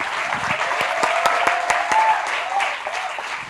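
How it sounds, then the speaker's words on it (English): An audience breaks into applause at a Vidya Balan event, a steady wash of clapping from a crowd for about three seconds, fairly loud and close, with no talking over it. "And can we have a round of applause for that?"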